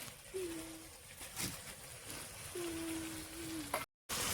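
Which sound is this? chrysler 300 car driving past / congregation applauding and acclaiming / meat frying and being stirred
meat frying and being stirred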